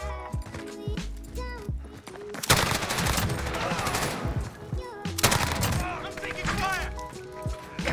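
Bruen rifle fire in the video game Warzone: loud bursts of rapid automatic shots in several volleys, mixed with game effects and music, with a person talking over parts of it.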